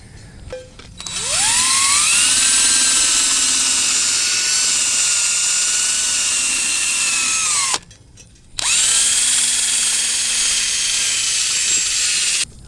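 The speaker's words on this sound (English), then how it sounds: "we want to take a wire brush and clean this bead. There's like flaking paint, rust." A powered wire brush scrubs flaking paint and rust off a steel wheel bead, giving a loud, steady high-pitched whine that spins up, runs several seconds, cuts out briefly, then runs again.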